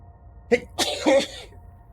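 One person sneezes during a tabletop game stream, a short sharp burst followed by a fuller noisy sneeze, close and fairly loud against a quiet background.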